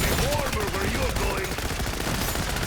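An MP40 submachine gun firing continuously in a Zombies video game, a dense, loud burst of rapid shots with a voice faintly mixed in underneath.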